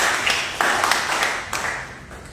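A church congregation breaks into lively applause, a dense wash of clapping hands filling the room with a few sharper bursts standing out over roughly two seconds.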